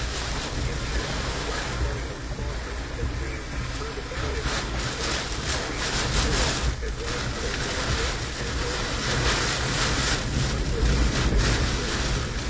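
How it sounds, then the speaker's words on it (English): Hurricane Idalia's strong gusting wind roars continuously at Valdosta Airport, a loud, rough rush buffeting the microphone and swelling toward the end. "49 mile per hour wind gust just occurred."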